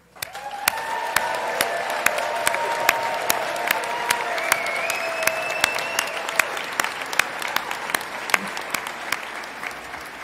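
A large audience at a university nursing graduation ceremony applauds steadily for the new nurses, dense continuous clapping with a few scattered cheers, and a voice speaking faintly in the background.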